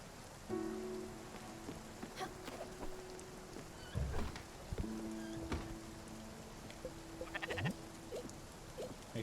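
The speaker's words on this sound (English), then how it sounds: "Make sure to feed our sheep." Sheep bleat in the video game Spiritfarer over a steady bed of falling rain, with a few drawn-out bleats rising clearly above the constant patter.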